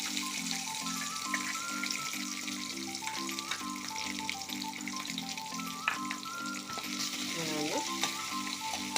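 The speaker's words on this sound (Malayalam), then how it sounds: "ബാക്കി നമുക്ക് വെളുത്തുള്ളിയെല്ലാം വഴറ്റി എടുക്കാം" Chopped garlic and ginger for fish pickle fry in hot oil with a constant crackling sizzle, while a rhythmic stirring scrape repeats through the pan and a short metallic clatter comes near the end.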